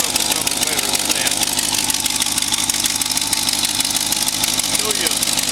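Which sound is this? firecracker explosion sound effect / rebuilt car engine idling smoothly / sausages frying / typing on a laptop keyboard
rebuilt car engine idling smoothly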